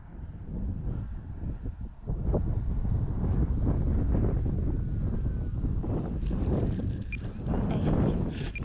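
Strong wind buffets the microphone at an outdoor RC warbird flying field, a constant loud rumbling roar with gusts and no pauses, and a faint engine-like whine rising near the end.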